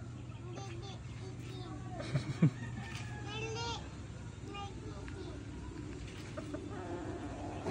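Chickens clucking outdoors in Candelaria, Quezon, with a few brief louder calls near the middle over a steady background, while children and adults talk throughout.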